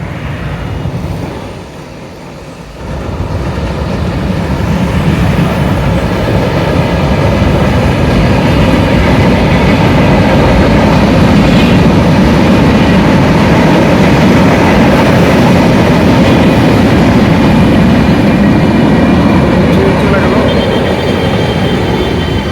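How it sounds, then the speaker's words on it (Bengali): A train rumbling past on a track overhead, a loud, continuous, dense roar that swells after a quieter opening and holds steady to the end. "ট্রেন আসতেছে দারুণ একটা জিনিস ট্রেনও আসতেছে উপরে"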